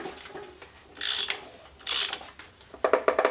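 Mechanical clicking and ratcheting as a failed engine with metal debris inside is cranked slowly by hand, with a few louder scraping bursts and quick metallic clicks near the end.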